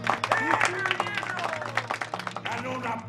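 An audience in an animated film applauds with a burst of clapping under lively crowd voices and shouts, with people talking over it throughout.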